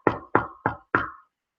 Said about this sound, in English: a quiet little knock on the door